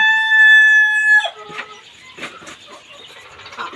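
Quail birds call in a brooding pen, starting with a loud, sustained tonal call lasting about a second, followed by scattered short chirps and faint rustling.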